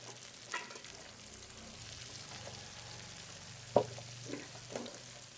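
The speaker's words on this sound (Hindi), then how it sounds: "सबसे पहले ना हम गोभी को घी के अंदर अच्छी तरह से फ्राई करेंगे" Cauliflower frying in ghee in a pan, a quiet, steady sizzle with a few soft stirring knocks and one sharper clack along the way.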